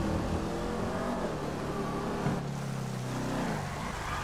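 Car engine in GTA 5 Online with transmission upgrades, droning steadily as the driver lets off the gas, a continuous loud rumble with shifting harmonic tones and no talk.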